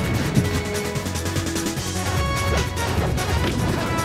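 A forward smash lands in a Super Smash Bros. Melee tournament match, a sharp hit cutting through dense, steady game sound and crowd noise that run the whole way.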